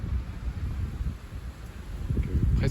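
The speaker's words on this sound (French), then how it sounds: "Presque une tempête de bise." Gale-force bise blowing from the east-northeast across Lake Geneva, a continuous rumbling wind buffeting the microphone in uneven low gusts, heard alone without talk.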